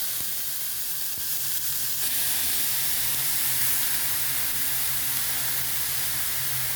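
Chopped beetroot and cabbage fry in a pan for a thoran, giving a steady, loud, broad sizzle and hiss that holds unbroken throughout, with faint clinks underneath.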